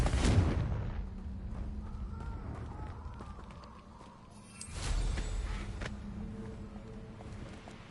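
A Confringo fire spell from the Hogwarts Legacy video game bursts loudly at the start, then a second fiery blast swells up midway amid ongoing in-game rumble and clatter.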